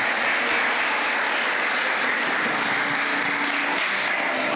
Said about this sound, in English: Big round of applause for Bob.